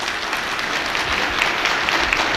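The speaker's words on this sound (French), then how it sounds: "Aucun panneau ne s'est levé et nous avons acclamé." Delegates at a Togolese national sovereign conference applaud in a hall to adopt the agenda by acclamation. The clapping is dense and sustained from many hands, even and fairly loud throughout, with no speech over it.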